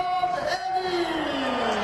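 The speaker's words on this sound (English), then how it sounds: "getting the full response from this vociferous Swedish crowd" A vociferous Swedish crowd cheers and whoops at the finish of a ski race in Östersund, a sustained roar of yells and chatter with a commentator's voice over the top.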